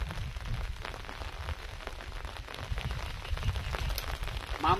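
Steady rain falling outdoors at night during an overnight fishing trip, a dense continuous patter with a low rumble underneath, fairly loud and unbroken throughout.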